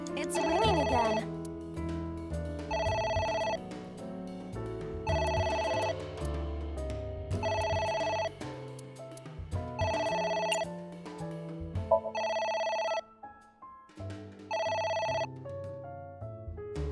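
A telephone in the video game AI: The Somnium Files rings in repeated bursts, about seven evenly spaced electronic trills over a musical soundtrack.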